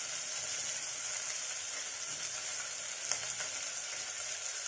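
Chopped onions and curry leaves fry in a pan with a steady, close hiss and sizzle, plus a few faint stirring clicks, without any talking.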